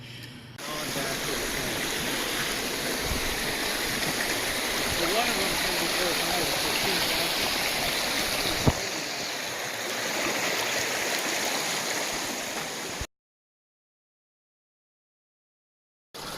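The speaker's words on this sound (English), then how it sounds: "I just found a mini waterfall that goes into the ground here." Small waterfall on the Appalachian Trail spilling down and vanishing into the ground, a steady close rushing flow that runs continuously for about thirteen seconds before cutting out.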